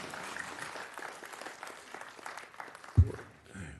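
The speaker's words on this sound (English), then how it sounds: "Let's just keep the applause down." Audience applause at a Planning and Zoning Commission meeting, a fairly faint, steady patter of clapping from a roomful of people that fades out near the end.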